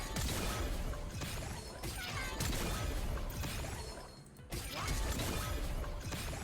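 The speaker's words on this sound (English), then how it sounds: "Here's what Jinx looks like firing it." Jinx firing her weapon in League of Legends, a dense run of loud crashing, whacking game impacts and mechanical clatter with a brief dip near the middle, continuous and close.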